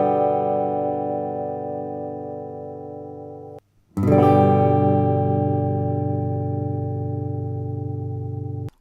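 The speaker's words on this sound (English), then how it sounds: "What you just heard was the biggest improvement in quality of the sound of the tube amplifier that I have achieved." Electric guitar played through a modified Epiphone Valve Special tube amplifier: a long sustained distorted chord rings out and fades, a brief silence, then a fresh strum that sustains again, loud and close.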